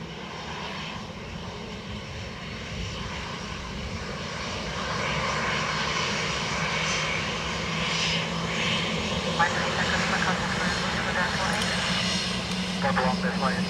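Ryanair jet airliner landing at Dublin Airport, its engine roar a steady broadband rumble that grows slightly louder midway and holds, with faint voices underneath.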